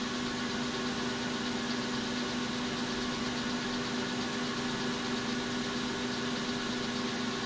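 A small lathe spindle runs near its top speed of about 1246 rpm, giving a steady, even mechanical hum and whine with a constant drone and no talking.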